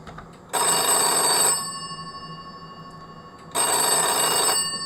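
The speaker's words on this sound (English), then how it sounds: "And it's ringing the other phone." A telephone bell rings in two loud, close bursts of about a second each, separated by a quiet gap, with a metallic trill that decays after each burst.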